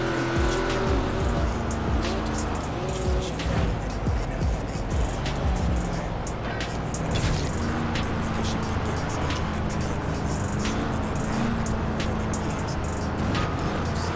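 A Ford Mustang drifting in the racing game Forza Horizon 4 at a night street meet: loud, sustained engine roar with repeated tire squeals and skidding, dense and continuous, with talk faintly mixed in.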